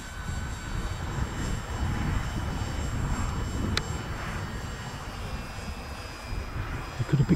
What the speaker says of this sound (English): What a nice little plane